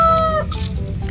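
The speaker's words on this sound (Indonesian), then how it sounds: "Ayam berkokok." A toy rooster gives an electronic crowing call, a short, bright, close sound with a steady low hum running underneath it.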